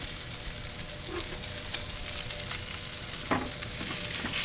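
Steaks sear in a hot pan, giving a steady, close crackling sizzle that runs unbroken, with a few faint clinks and no talking.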